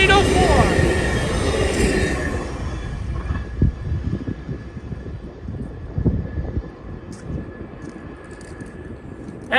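A Long Island Rail Road train, number 325 running Port Washington to Penn Station, rumbles loudly past the New South Road grade crossing east of Hicksville, a steady heavy roar that eases slightly toward the end.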